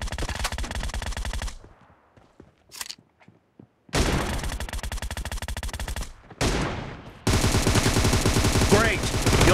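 Video game gunfire rattles in long, loud rapid-fire bursts, separated by a short near-silent gap that holds a few single shots.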